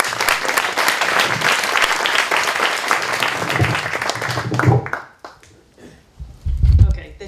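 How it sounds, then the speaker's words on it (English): Audience applause for storyteller Heidi Lang at a live storytelling event, dense loud clapping that holds for several seconds, then breaks off abruptly and leaves a few low thumps. "Ladies and gentlemen, how about a huge round of applause for Heidi Lang"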